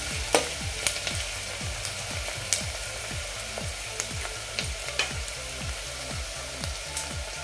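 Onion sautéing in a pan for mixed dal amti gives a steady close sizzle, broken by repeated scraping strokes of a spoon stirring at an even rhythm.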